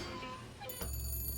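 Telephone rings inside Bioshock Infinite gameplay, a bright electronic ringtone with steady high tones that start partway through and continue, heard alone at moderate level.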